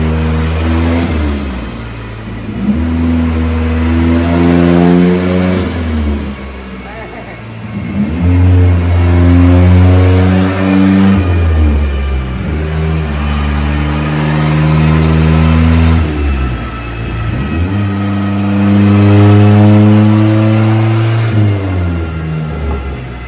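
A Nissan Hardbody turbo truck engine runs on a Mustang dynamometer, loud and close, rising and falling through repeated rev cycles of steady harmonic drone, with faint voices underneath.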